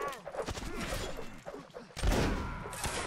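Musket volleys in the Napoleonic Wars battle game Mount & Blade, scattered cracks and thumps through the first two seconds, then a louder burst of fire, with a player talking underneath.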